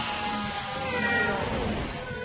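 A cat character in the fighting game Bloody Roar: Primal Fury lets out a drawn-out, whining meow with a caterwauling edge. It is loud and close, set over dense game sound.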